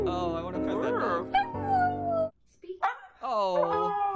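A Basenji dog gives a run of loud, close, wavering yips and whimpering howls that rise and fall in pitch, broken by a brief pause, with people speaking in the background.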